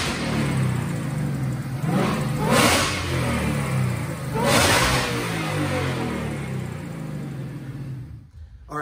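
Roush Phase 2 supercharged 2018 Mustang on a dyno, the engine climbing through two loud revving surges with a whooshing supercharger whine, then settling and cutting off near the end.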